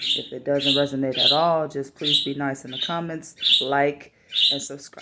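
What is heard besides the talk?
pet birds chirping in the background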